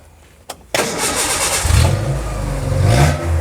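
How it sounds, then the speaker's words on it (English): A vehicle engine cranks with a short click and then catches, settling into a loud, steady idle with slight rising revs, close by and without talk. "Basically I have to start the vehicle."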